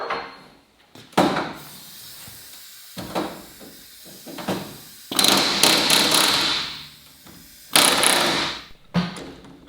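Rivets are hammered into the seat box of a Land Rover Series 3, sharp metallic bursts in irregular clusters separated by pauses, close and fairly loud in a workshop.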